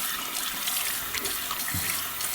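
Cold tap water runs steadily into a sink for rinsing, a close, continuous splashing stream with no voices.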